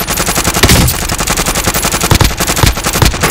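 Loud, rapid automatic gunfire in a shooter video game, dense bursts of rattling shots firing nearly continuously close up, with no talking over them.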